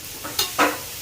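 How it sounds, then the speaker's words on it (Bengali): Vegetables frying in a pan as they are stirred, with a couple of quick, close scraping sizzles in about a second. "যে দেখো ভেজিটেবলস ফ্রাই শুরু হয়ে গেছে"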